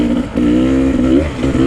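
A Beta 300RR hard enduro motorcycle engine revs loudly up close as the ride begins, a sustained buzzing rise and fall with no talk.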